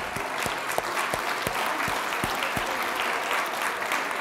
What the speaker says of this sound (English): let's give ourselves a little round of applause for doing that